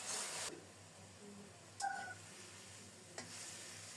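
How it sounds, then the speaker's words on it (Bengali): Potatoes and spinach hit a hot tempering of garlic and green chilies in a pan, giving a soft, steady sizzle with a brief sharp burst at the start and a couple of faint clinks, quiet throughout. "ফোড়নটা রেডি হলে আলু আর শাক দিয়ে দিলাম।"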